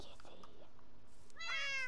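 A cat in the Minecraft video game meows once, brief and faint, near the end of an otherwise quiet stretch with no talking.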